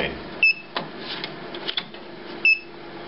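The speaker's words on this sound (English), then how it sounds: "You can hear the Designjet beeping to say it's accepted the inks." Two short, high electronic beeps about two seconds apart from an HP Designjet Z3200 large-format printer accepting inks, with soft clicks and quiet background noise between them.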